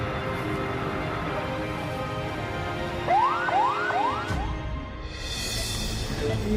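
An ambulance siren in Indonesia sounds a few short rising wails over steady background rumble, moderately loud and slightly distant, with no voices.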